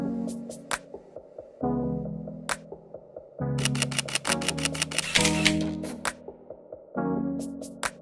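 Rapid bursts of camera shutter clicks fire in quick clusters, separated by short pauses, close and crisp against a steady low hum.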